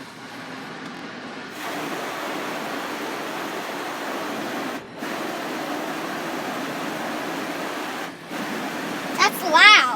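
An automatic car wash runs with water spraying over the car, heard from inside the vehicle as a steady broadband roar. Two brief dips break the sound, and it swells louder near the end.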